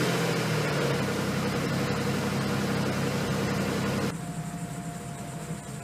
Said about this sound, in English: we're going to go ahead and start it up and let the engine warm up